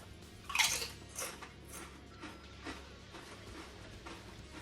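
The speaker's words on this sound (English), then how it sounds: "The crunchiness of the chip, hands down, you need that." Someone bites into and chews a seasoned vegan Trader Joe's kettle chip, producing faint, close crunches, sharpest in a first bite and then several softer chewing crackles over a quiet background.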